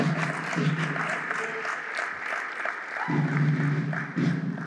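An audience applauds for the head coach at an Edo State unveiling event for Bendel Insurance football club, a steady wash of clapping with a voice talking over it at moments.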